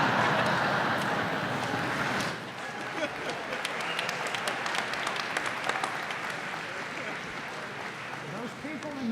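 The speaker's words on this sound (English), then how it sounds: "Those people in the back, by applauding then, are telling you something." Commencement audience breaking into sustained applause, a dense wash of clapping heard from a distance in a large hall, strongest at first then settling into a steady patter.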